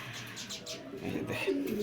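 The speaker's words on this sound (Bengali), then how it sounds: "এখানে দেখা যাচ্ছে এক জোড়া সাদা রেসার পেয়ার" Soft, low cooing of a pair of white Budapest racing pigeons close by, a few murmuring calls over faint background noise.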